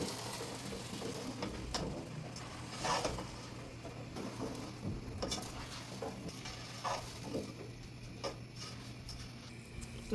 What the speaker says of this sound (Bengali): এখন পোলাও চাল এর মধ্যে ভেজে তারপর রান্না করবো